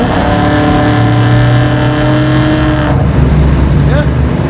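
A 750-horsepower LS9-powered Chevy Chevelle accelerating, a loud, close, deep engine drone climbing steadily in pitch from inside the car, with people talking over it.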